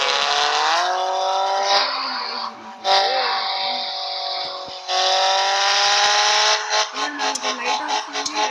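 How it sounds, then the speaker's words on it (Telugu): A car engine in a parking simulator game starts in neutral and revs up, a loud steady synthetic engine drone that rises in pitch, drops briefly, then surges again with uneven revving near the end. "ఇప్పుడు టర్న్ ఆన్ ఇంజిన్ అని ఇస్తే ఇది న్యూట్రల్లో చేసేసుకుని ఆన్ చేసి యాక్సిలేట్ చేసుకోండి."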